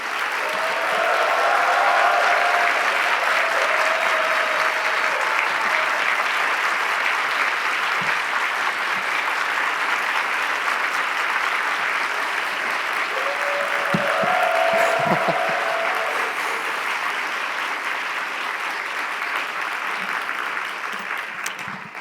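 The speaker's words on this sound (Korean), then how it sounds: "우리 큰 박수로 우리 목사님 환영하겠습니다" Congregation at a Korean church young-adult Sunday worship service applauding to welcome the pastor, a steady sustained wash of clapping from many hands lasting over twenty seconds, with faint voices mixed in.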